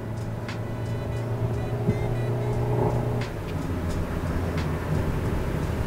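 A Suzuki Ertiga car accelerates into a curve, with a steady engine drone and road rumble heard from inside the cabin and no one speaking.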